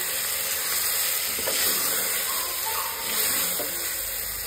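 Rice frying in a pan for chicken biryani gives a steady, loud hiss of sizzling oil throughout, with a few faint scraping stir sounds and no talk over it.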